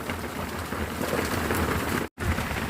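Heavy rain pours down in a dense, loud, continuous wash of drops hitting surfaces, broken only by a brief cut of silence near the end, with no voices over it.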